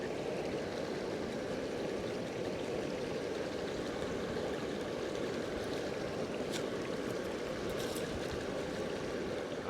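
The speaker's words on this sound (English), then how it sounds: "we got our water starting to simmer already" A pot of water starts to simmer on a small GSI camp stove outdoors, a steady low bubbling rush that holds even and constant throughout, with no voices.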